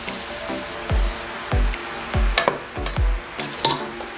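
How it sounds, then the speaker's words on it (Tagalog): Puto cheese batter ingredients, including baking powder and milk, are stirred in a bowl, giving rhythmic scraping swishes and soft thumps that repeat about every half second, close and fairly loud. "i-mix natin para halo ang ingredients"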